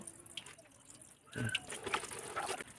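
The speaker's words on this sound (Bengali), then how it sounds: "শাকগুলোকে আমি ভালো করে ধুয়ে নেব।" Leafy greens (beto saag) being rinsed in water, giving soft splashing and dripping sounds with a few brief louder swishes. The sounds build in the second half and stay fairly close and quiet, with no talking.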